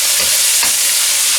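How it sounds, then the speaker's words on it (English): A spoon stirs baby corn and other vegetables in hot oil, making a close, scraping, sizzling swish with one stronger stroke midway. The sound is brief and continuous, with no voices. "I'm going to come in here with a spoon and stir this around."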